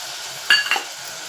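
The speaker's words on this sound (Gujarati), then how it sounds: "તો ચલો ગાઈસ નાખી દઈએ મસાલાની પેસ્ટ" Masala paste goes into a hot pan for shing bhujiya shaak, giving a short sizzling burst with a metallic clink of a spoon against the pan, then a faint background hiss.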